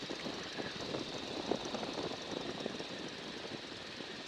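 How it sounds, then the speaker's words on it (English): A biplane in flight with its engine throttled back gives a faint, steady drone and airy wind whistle through the rigging wires, even and unbroken. "You can really hear the whistle of the wind and the wires as well."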